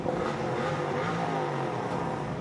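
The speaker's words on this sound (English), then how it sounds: "That's one motorcycle." A motorcycle engine at an outdoor bike night runs with a continuous rough, throaty roar that holds steady and loud throughout, with no talk over it.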